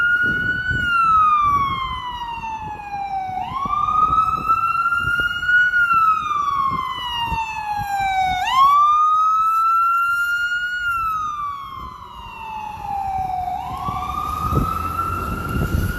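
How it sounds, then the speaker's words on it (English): An ambulance siren wails up and down in long repeating sweeps, loud and steady, passing close along Fifth Avenue in New York City with faint traffic rumble beneath. "Get to see an ambulance coming down Fifth Avenue."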